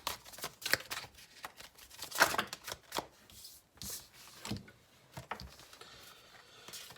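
A tarot card deck is shuffled by hand in a series of irregular papery riffles and soft slaps, with short pauses between bursts and no speech.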